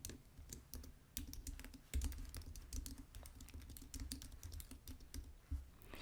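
Fast, continuous typing on a computer keyboard, close and quiet, with irregular clicky keystrokes and a few heavier hits like the space bar.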